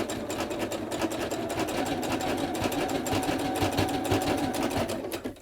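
A sewing machine stitching fabric while sewing pantaloons, a fast, steady mechanical rattle running continuously at moderate volume, close up with no talking.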